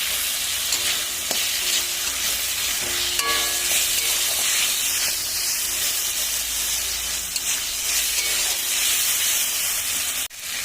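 Tomatoes frying and being stirred in a hot pan along with garlic, dried chillies and a little poppy seed: a steady loud sizzle runs throughout, with a few soft scrapes of the spoon against the pan.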